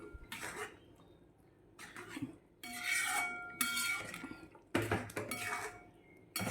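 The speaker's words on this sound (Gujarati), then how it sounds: "હવે આપણે ઉપરથી તેમાં ધાણા નાખી દઈશું અને ફરીથી અને મિક્સ કરી દઈશું" Mung dal curry being stirred in a pot after coriander is added, with a spoon scraping and clinking against the metal in several separate bursts, close and moderately loud, with no talking.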